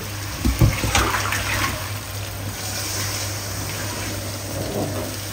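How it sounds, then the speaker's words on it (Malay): Water poured into a pot of salted fish curry, a steady splashing pour that starts with a louder gush and settles into a continuous trickle, heard up close in a kitchen. "Jadi saya nak masukkan air."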